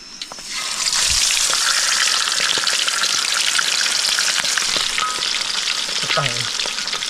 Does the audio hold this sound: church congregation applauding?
no